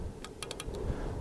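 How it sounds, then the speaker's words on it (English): A pistol misfires on a light primer strike, giving a few small, dry metallic clicks in quick succession, close but faint over a low background rumble. "Got a click."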